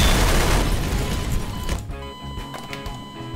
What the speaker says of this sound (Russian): Вот это будет мега взрыв, если сейчас она взорвется.